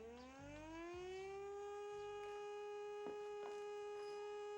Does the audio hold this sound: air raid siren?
yes